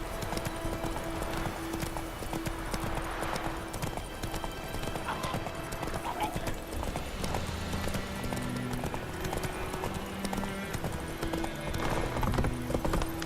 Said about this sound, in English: Whoa there, Roach. We going?